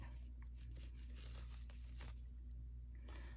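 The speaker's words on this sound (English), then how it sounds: "If I can tear it apart." Paper or fabric being torn apart during a crochet lace and junk journal craft session, heard as a few short ripping bursts over a steady low hum, close by and fairly quiet, with no talking.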